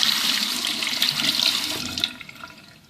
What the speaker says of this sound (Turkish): Elimi yıkayacağım.